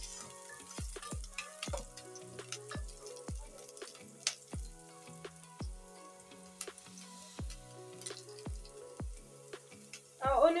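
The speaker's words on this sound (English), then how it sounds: "Our onions are almost ready. We are still gonna give them a few seconds." Onions fry and brown in a pan for Kenyan githeri with a soft steady sizzle. Sharp, regular utensil knocks against the pan repeat roughly every half second. A voice briefly comes in at the very end.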